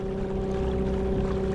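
A Haswing W40 electric motor drives a Pro Angler kayak through water with a steady, close, even hum mixed with water wash.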